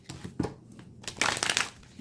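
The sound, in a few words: tarot cards being shuffled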